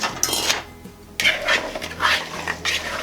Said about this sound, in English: Now I'm going to mix all this together in a big bowl.